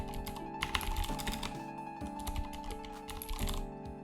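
Typing on a computer keyboard, a quick uneven run of soft key clicks, fairly faint and close, under a steady tonal background with no speech.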